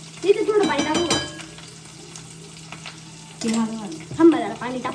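Ground masala fries in a pan just after a splash of water goes in, loud sizzling bursts with short stirring scrapes, set against quieter sizzling between them.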